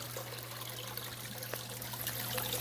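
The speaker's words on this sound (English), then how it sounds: "Most of the time when we have a look at this tank, it's just a little trickle of water." Water trickles steadily over rocks in a home waterfall tank, a soft continuous stream with a low mains hum beneath, fairly quiet and without speech.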